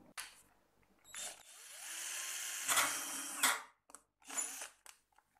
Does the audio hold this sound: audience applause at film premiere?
no